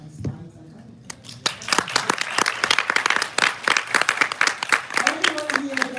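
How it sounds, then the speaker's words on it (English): An audience at a talk breaks into applause after a brief moment of voices and rustling, with a crowd of fairly close, lively clapping building quickly and continuing steadily to the end. "Can y'all give a round of applause for my slides?"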